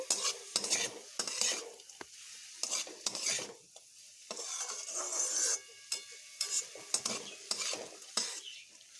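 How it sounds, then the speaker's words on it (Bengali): Banana stem being stirred with salt and turmeric in a pan, a spoon scraping and clattering in irregular bursts over a soft sizzle, close and fairly quiet, with no talking. "এবার আমি নুন হলুদগুলোকে একটু ভালোভাবে মিশিয়ে নেব"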